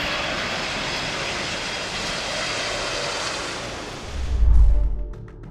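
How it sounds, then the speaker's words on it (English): A loud, continuous roar of aircraft engines as planes fly low over the buildings of Kowloon City, Hong Kong, swelling into a deep rumbling pass near the end before fading. "as the planes pass over the buildings"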